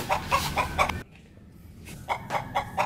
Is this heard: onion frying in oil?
no